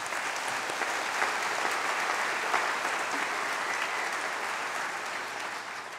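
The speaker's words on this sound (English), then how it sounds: "Give yourself a round of applause." Graduates fill a university ceremony hall with a dense, sustained wash of applause. It stays strong and even throughout and tapers slightly at the end, with no talk over it.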